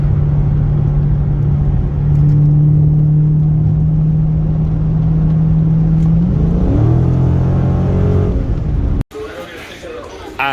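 A Dodge Charger Scat Pack 392 with mid-muffler and muffler delete drones steadily, then its pitch rises as the exhaust revs up, before an abrupt cut to a rougher, louder engine noise.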